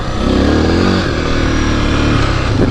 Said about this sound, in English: Tried to do a wheelie, but it just spun the tire